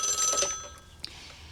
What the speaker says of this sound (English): The phone rang, and I answered it